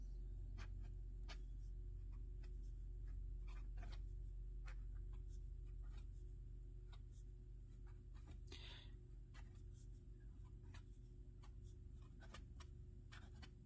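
A Platinum Curidas retractable fountain pen with a medium platinum nib writing on paper, faint scratchy strokes and light ticks in an irregular rhythm over a low steady background hum.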